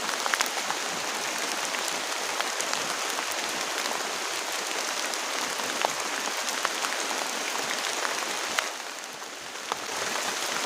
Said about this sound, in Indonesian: Soalnya ini hujan deras banget.